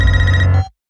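A telephone rings loudly and close, one steady electronic ring that stops abruptly, followed by silence.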